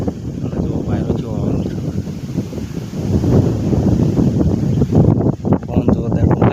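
Strong wind buffets the microphone across an open chili field, a loud, low, gusting rumble that swells and surges throughout, close and rough.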